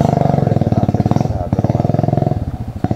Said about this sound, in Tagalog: Yan ang ating service. Ating motor.